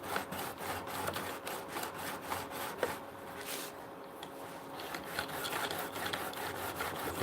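Chisel rubbed against a cleaning block with even pressure makes a close, continuous rasping scrub of quick repeated strokes, fairly steady throughout with a slight dip midway.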